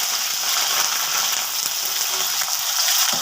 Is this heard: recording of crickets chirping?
no